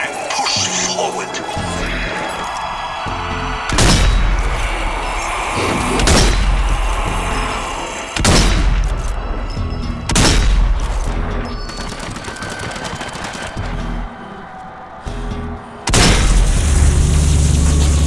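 Gunfire and heavy explosions from the zombie shooter game Zombie Army 4 pound loudly and repeatedly, with sharp blasts recurring every couple of seconds over dense continuous shooting.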